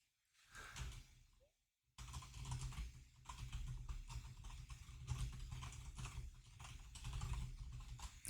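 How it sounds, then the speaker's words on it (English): Fast, continuous computer keyboard typing with no hands on the keys, keys firing on their own in a dense clattering stream after a brief quiet pause at the start, fairly close and steady. "No hands on the keyboard, and it's typing."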